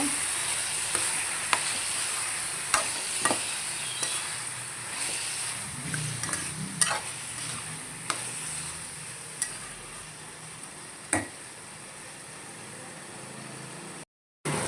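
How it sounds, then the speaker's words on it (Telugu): Onion and cumin fry in a pan for tomato chutney, a steady close sizzle with sharp clicks and scrapes of stirring scattered throughout, ending in a brief cut to silence. "ఉల్లిపాయ వేసేస్తున్నాం కొంచెం జీలకర్ర వేసేస్తున్నాం"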